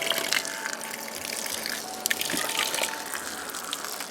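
Water from a hanging 20-litre solar camp shower splashes and trickles over feet at a campsite, a soft steady gushing with small spatters, fairly quiet and close.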